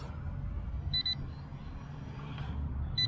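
Short high electronic beeps sound in brief bursts from a brushless D6 Pro drone as it lands, over a steady low motor hum and rumble, with a couple of pauses between them.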